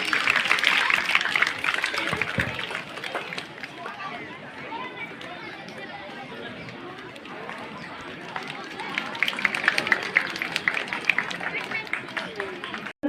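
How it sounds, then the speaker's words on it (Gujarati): A crowd at a village school's 79th Independence Day celebration in Methala, Talaja taluka, gives prize-winning students a dense, continuous round of applause, loudest at the start and swelling again near the end, with chatter mixed in. "આપણે એમને તાળીઓના ગડગડાટથી વધાવીશું"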